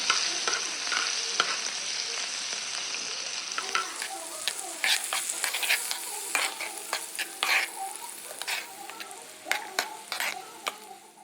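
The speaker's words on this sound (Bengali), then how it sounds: "এবার কড়াইতে একটা তেল দিয়ে তার সাথে মাখন গরম করে তার মধ্যে দিয়ে দিলাম রসুন কুচি, পেঁয়াজ কুচি, লঙ্কা কুচি অল্প পরিমাণে। এবার ভালো করে নেড়ে চেড়ে নেব।" Chopped garlic, onion and chili fry in oil and melted butter in a kadai while a spatula stirs them. A constant bright sizzle carries irregular scrapes and clicks that grow denser and louder toward the end.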